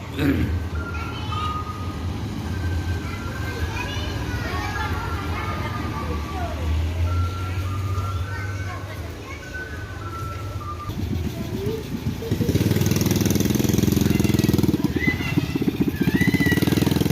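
A bus's engine rumbles and grows louder as it pulls into a bus terminal in Solo, Indonesia, with background chatter, music and traffic noise around it.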